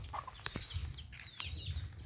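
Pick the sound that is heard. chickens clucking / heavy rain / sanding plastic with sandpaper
chickens clucking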